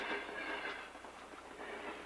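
A historic passenger train on the Grand Canyon Railway runs along the south rim, heard as a steady, fairly distant rumble with faint rolling wheel noise and no voices over it.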